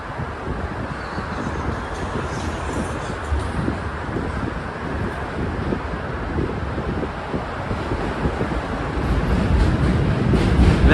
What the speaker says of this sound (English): here's the J train coming by